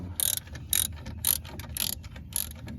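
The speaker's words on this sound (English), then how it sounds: "he's actually going through and pulling bolts off the back to loosen the brake caliper" Ratchet wrench pulling bolts off the back of a brake caliper, five bursts of quick ratcheting clicks in an even rhythm, close and clear with no talk.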